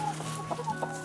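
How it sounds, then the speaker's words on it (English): Backyard hens cluck in short, soft bursts close by, with no voices over them. "So come see my chickens."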